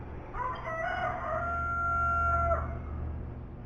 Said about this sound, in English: That's my chickens, or my wife's chickens, out in the yard.